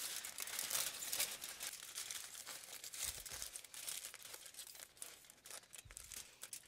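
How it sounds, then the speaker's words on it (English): Tin foil ripped and crinkled by hand while wrapping a pie crust, a close, quiet run of crisp crumpling and tearing bursts with short pauses, no voices. "So you're gonna cut kind of a big piece of tin foil and you're gonna wanna rip it vertically, not horizontally."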